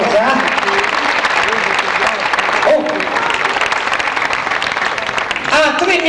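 A casino concert crowd at Harrah's in Atlantic City applauds the orchestra, with steady, dense clapping throughout and someone talking over it.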